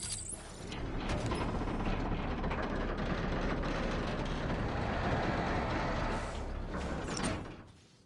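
Heavy elevator machinery from the video game Batman: Arkham Knight grinds and rattles with a steady, loud mechanical drone, gear-like clanks running throughout before tapering off at the end.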